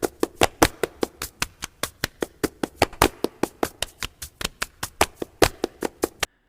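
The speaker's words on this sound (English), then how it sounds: "music includes clapping your hands in a rhythm" Steady, sharp hand claps in a quick, even rhythm, about five per second, continuing for several seconds before stopping abruptly.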